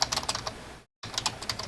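Rapid typing on a computer keyboard, dense clattering keystrokes close to the microphone, broken by a brief silent gap before resuming, with no talking.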